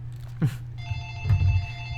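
A telephone rings with a clear electronic ring tone carrying steady high harmonics, heard alone at moderate level for about two seconds, with a low hum underneath and no talking.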